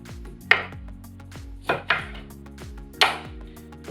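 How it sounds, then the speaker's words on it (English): A knife slices three limes straight in half on a board, giving about five crisp, sharp chops at an uneven pace. Steady background music runs underneath. "So we're going to start by slicing these limes. It's just 3 limes, cut them straight in half, ready to juice."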